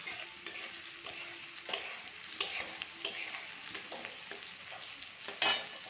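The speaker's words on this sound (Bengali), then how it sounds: "ভালো করে আলু পটলটা কষিয়ে নিয়ে" Potato and pointed gourd sauté in a pan with a continuous soft sizzle, broken by occasional sharper scrapes of a stirring spoon.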